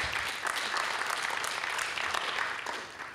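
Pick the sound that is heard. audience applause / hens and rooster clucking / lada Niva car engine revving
audience applause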